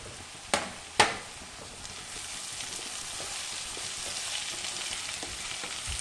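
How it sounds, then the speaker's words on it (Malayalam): Chopped capsicum hits a pan of softened onions for a chilli butter paneer curry, two sharp clacks as it drops in, then a steady close sizzle of frying that holds without any talk. "ഇനി നമുക്ക് ഇതിനകത്തേക്ക് ഈ അരിഞ്ഞ് വെച്ചിരുന്ന ക്യാപ്സിക്കത്തിനെ അങ്ങോട്ട് കൊടുക്കാം."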